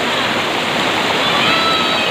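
Rushing water at a Shillong waterfall pours as a loud, dense, unbroken roar close by.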